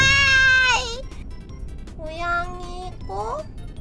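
A cat meows several times in the horror train game Shinkansen 0, a loud drawn-out meow first, then two shorter mewing calls, each standing clear of the quiet background.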